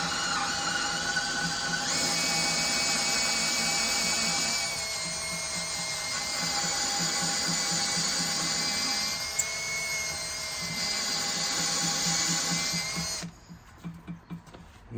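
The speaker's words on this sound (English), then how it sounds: "I'll drill through this now." A steady, loud drill whine runs for about thirteen seconds with shifting pitch as it bites into an aluminum Ford 302 intake manifold, then cuts off leaving a few faint clicks.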